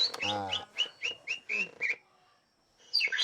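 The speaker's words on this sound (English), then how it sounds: "Ali simulates a mating ritual with the help of a birdsong recording" A recorded birdsong played in the Borneo jungle to lure birds into a trap: a burst of rapid chirps followed by a series of clear, separate whistled notes, a short pause, then another bright chirping phrase, close and alone.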